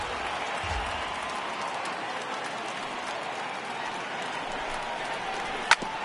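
Baseball stadium crowd in a video game, a broad steady roar of cheering and murmur from a large crowd, continuous and fairly loud, with one sharp crack near the end.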